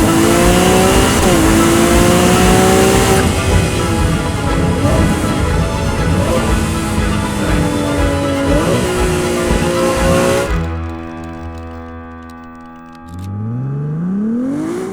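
A 2023 Ferrari 296 GTB with its V6 hybrid engine revs hard and loud, climbing through repeated rising sweeps with brief shift dips, then the roar cuts off to a lower idle before one more rev swells at the end.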